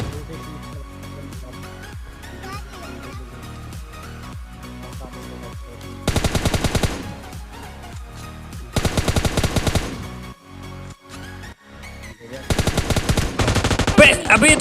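Gunfire from the PUBG Lite battle game, including an AWM sniper rifle, sounds as repeated rapid shots that swell into loud dense bursts around the middle and again near the end, over a steady game background.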